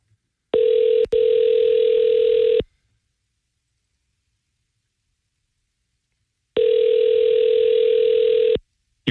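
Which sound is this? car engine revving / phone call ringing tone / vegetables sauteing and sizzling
phone call ringing tone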